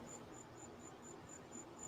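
Faint, high-pitched cricket chirps repeat at a steady, regular rhythm over a quiet low background hum.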